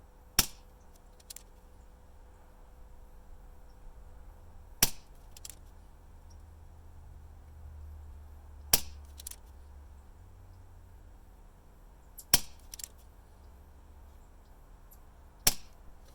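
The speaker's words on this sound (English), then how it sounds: "I shot 3 shots just to bring the consistency into game." Five sharp shots from a Pinty .22 PCP air rifle firing Barracuda pellets at a 30-yard target, spaced a few seconds apart, each a crisp near crack with a brief trailing tick, over a quiet low hum.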